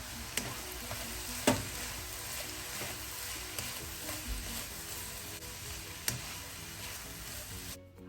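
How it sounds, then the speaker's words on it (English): Rice tossed in a hot pan with soy sauce and sesame oil while a bacon and egg fried rice cooks, giving a continuous sizzle with occasional sharp spatula taps, fairly quiet and steady throughout. "And here I'm adding 4 cups of rice and 2 tablespoons of soy sauce."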